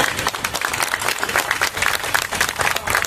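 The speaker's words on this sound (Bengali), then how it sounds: "একটু জোরে করতালি দিন" Sustained audience applause at an International Human Rights Day gathering, dense and steady clapping from a crowd, moderately loud and continuous throughout.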